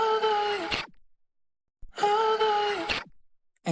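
Two bursts of a vocal treated with a VHS Rect preset from Roar, each lasting about a second with a crunchy, gritty, lo-fi texture, separated by a short silence.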